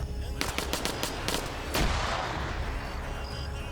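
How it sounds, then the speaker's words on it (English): Grenade blast in a combat video game match: a rapid run of sharp cracks and pops, then one heavier thump that leaves a sustained rumbling wash, loud and close, with no voices. "And Iander goes down to the grenade."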